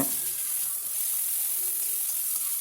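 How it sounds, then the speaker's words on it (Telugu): Ginger-garlic paste sizzles in a hot pan for egg bhurji, a constant bright hiss close up with faint stirring scrapes underneath. "అల్లం వెల్లుల్లి పేస్ట్ వేసుకొని కలుపుకోవాలి"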